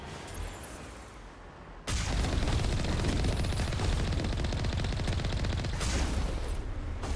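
Sustained rapid gunfire from a firefight in the video game Mass Effect erupts after a brief quieter lull and keeps going as a dense, loud, continuous volley to the end.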